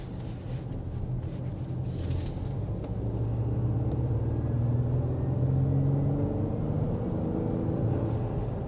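A 2023 Acura MDX Type S with a 3-liter turbocharged V6 accelerates from a rolling start. From inside the cabin it makes a low, steady engine rumble and drone that rises gently in pitch, with no voices.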